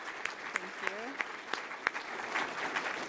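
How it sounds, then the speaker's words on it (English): Fairly faint, sparse applause from an audience after a health event's speakers, scattered distinct claps thickening toward the end, with a brief voice in the background. "And let's give them all a real big round of applause."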